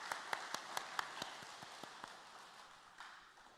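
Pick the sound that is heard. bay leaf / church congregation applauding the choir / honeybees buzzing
church congregation applauding the choir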